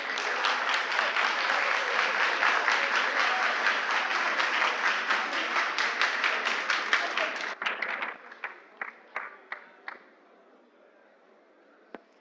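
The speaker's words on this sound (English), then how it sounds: "Let's give them a round of applause." An audience claps loudly and continuously at a children's gardening and small animal rearing competition in Ghana. After about eight seconds the applause thins to a few scattered, separate claps before dying away.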